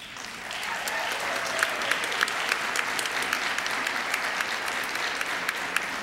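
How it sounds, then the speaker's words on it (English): An audience at an awards ceremony applauds in a dense, steady wave of clapping that lasts throughout, with scattered louder claps and faint cheering mixed in. "So would you please stand and support Steve?"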